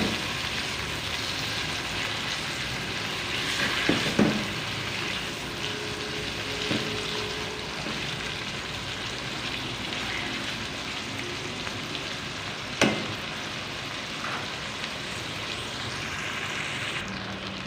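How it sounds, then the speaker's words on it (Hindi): Chicken pieces fry in hot oil for black pepper chicken, giving a steady, dense sizzle throughout with an occasional sharper pop or spatter. "यहाँ पे चिकन को मैंने 3 से 4 मिनट के लिए ऑयल में अच्छे से फ्राई कर लिया है।"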